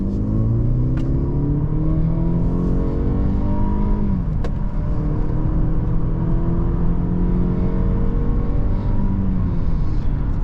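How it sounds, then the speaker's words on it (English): A 2024 Mercedes-Benz E350 accelerating on a highway, its engine note climbing steadily through the gears with a brief shift around midway, heard from inside the cabin over a constant road rumble. "So this E350 accelerates actually very good."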